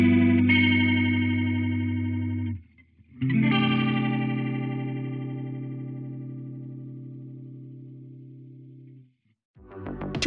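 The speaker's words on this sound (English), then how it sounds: "If you're looking for a rotary speaker effect, but with a modern twist, check out MRotary." MRotary rotary speaker effect plugin on a sustained harmonic keyboard-like tone, two long held chords with a short gap between, loud and alone with a swirling chorus-like modulation.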